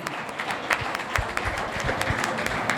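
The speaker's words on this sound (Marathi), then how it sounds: "सर्वांनी जोरदार टाळ्या सरांसाठी वाजवल्या पाहिजे" An audience at a college gathering claps for an honoured teacher, a brief dense patter of many hands, moderately loud and steady throughout.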